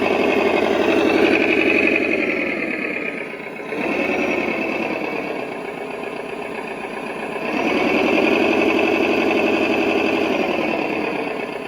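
Simulated engine sound from a 1:14 scale RC M35A2 6x6 dump truck, a loud, steady diesel-like rumble that revs up and settles back twice, continuous and close with no talk.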